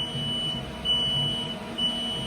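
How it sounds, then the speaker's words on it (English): A high-pitched electronic buzzer on a Hyundai QT15N lathe beeps twice, a longer tone followed by a short one, over a steady hum of machinery in a workshop. "That we've got the buzzer"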